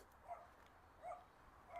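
A dog barks a few times in the distance during a neighbourhood walk in Regina, three faint, spaced yaps over quiet street ambience.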